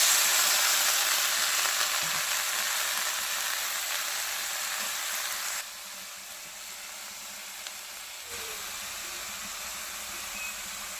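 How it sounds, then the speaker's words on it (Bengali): Potato pieces fry in a pan in a village kitchen, giving a steady, bright sizzling hiss that drops to a softer level partway through, with no talk. "আমার আলু কোয়াশ ভাজা হয়ে গেছে।"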